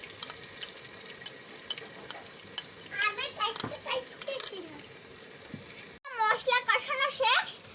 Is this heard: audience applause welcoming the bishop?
no